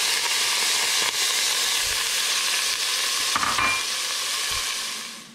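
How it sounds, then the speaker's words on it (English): Chopped vegetables and minced garlic sweating in a pot, a steady broad sizzle and hiss with occasional soft clinks and stirring knocks, continuous and moderately close with no talking. "now that the vegetables are sweating in the background, you can hear them in the pot going"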